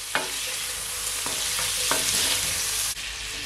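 Steak bites sizzle loudly in a hot pan and are tossed around, a dense continuous frying hiss broken by a few sharp scrapes and clacks of the utensil against the pan, close up and without talk.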